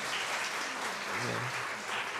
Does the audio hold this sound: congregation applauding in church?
yes